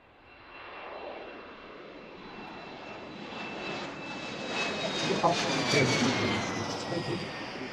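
An airplane taking off overhead at Washington Reagan National Airport gives a jet roar that swells as it climbs nearer, peaks loudly with a shifting whine, then begins to ease.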